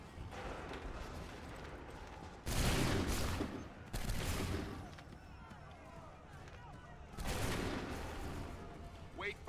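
Musket volleys in Assassin's Creed III, with several loud bursts of massed gunfire separated by quieter stretches of battle noise.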